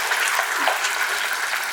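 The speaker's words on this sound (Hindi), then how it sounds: "आप दर्शकों के लिए एक बार जोरदार ताली।" Audience applause at a theatre festival: steady, dense clapping from a crowd, continuous and even throughout with no voices over it.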